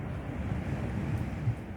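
Sea waves wash steadily while wind blows across the microphone, forming a faint, continuous rumbling roar with no voices.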